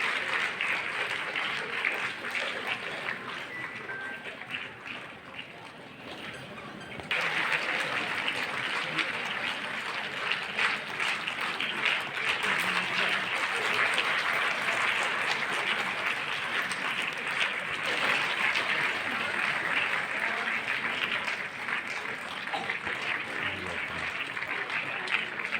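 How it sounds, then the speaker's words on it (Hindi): Sustained, dense applause from an audience at a public gathering in Dhanbad on educating daughters, steady and full for the whole stretch, swelling a little louder after a brief lull early on. "ताली जोरदार बजनी चाहिए"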